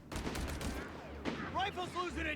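An MG42 machine gun fires in the Company of Heroes 3 video game, rapid bursts of gunfire crackling under a caster's voice, mid-distance and fairly dense.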